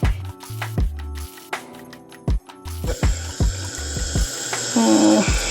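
A bottle is refilled with fresh water for a loc wash routine, with water running and splashing in bursts close by, broken by knocks and handling noises, then a steadier pour toward the end.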